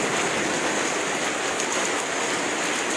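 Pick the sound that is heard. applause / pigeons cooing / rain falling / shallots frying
rain falling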